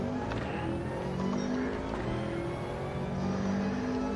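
A Jaguar race car in a racing video game, the engine holding a steady loud drone with a sustained revving tone and slight pitch shifts, heard continuously up close.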